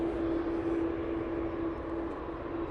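A Ryanair jet arriving from Dublin roars steadily on its approach to touchdown at Manchester Airport, a sustained loud engine drone with a constant whine running through it.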